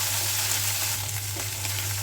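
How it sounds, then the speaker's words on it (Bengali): A paste of garlic, onion and cumin fries in hot oil, making a constant bright sizzle with a low steady hum underneath and no voices. "তেলের সাথে কিছুক্ষণ ভাজবো।"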